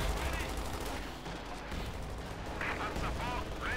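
Battle noise from the video game Company of Heroes 2, with a Panzer IV tank firing amid dense gunfire and explosions, heard under an excited commentator's voice.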